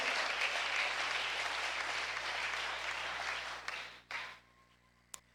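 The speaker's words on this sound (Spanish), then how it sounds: "Un aplauso más fuerte al Señor de la gloria." A congregation claps loudly and steadily inside a church, then the applause tapers off and stops near the end.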